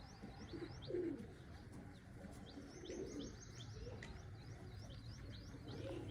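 Soft cooing of pigeons, a few low coos spaced out, with faint chirps and tweets of smaller birds in the background.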